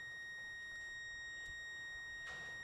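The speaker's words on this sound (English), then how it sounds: "it's beeping at me" A faint, high-pitched electronic beep from a car diagnostic tool holds steady throughout, with a few soft clicks and a brief rustle near the end.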